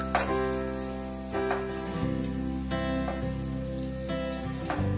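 Chicken kofta meatballs fry in hot oil with a steady, soft sizzle that runs throughout, partly masked by background music.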